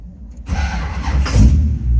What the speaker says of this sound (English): Let's go ahead and fire this up.